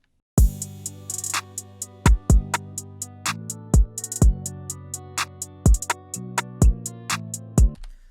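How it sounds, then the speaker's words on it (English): A beat with a steady pattern of deep, punchy kick drum hits, some doubled, driving under a sustained synth and hi-hats in an R&B guitar-type beat, loud and close. "So I added another kick pattern"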